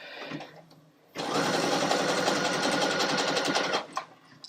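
Sewing machine stitching elastic on a quick gift project: a loud, fast mechanical whirring burst of about three seconds, with quieter handling noise before and after.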